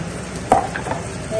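Chopped onion drops into a hot pan for fried rice with a sharp splash, followed by soft sizzling and a few light stirring scrapes close by.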